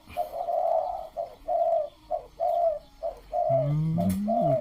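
Repeated soft cooing bird calls in short bursts, fairly close, with a few lower warbling notes near the end; no talking.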